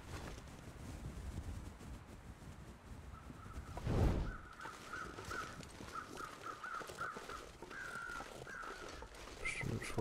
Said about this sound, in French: Corbeau là-bas, intéressant.